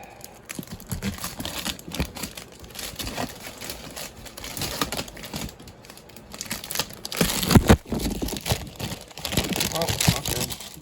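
A Kiss Dynasty Tour boxset's packaging is cut open and unwrapped close up: a continuous run of crinkling, tearing and scraping with a few sharper snips, noisy and busy throughout.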